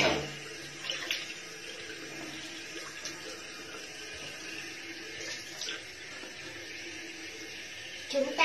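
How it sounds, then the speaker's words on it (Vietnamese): Running tap water flows steadily into a sink while a bowl is rinsed, a continuous splashing hiss with a few louder clinks and sloshes, with no talking over it. "Chúng ta sẽ được rửa chén, nếu như mà chén bẩn, chúng ta sẽ rửa như thế này."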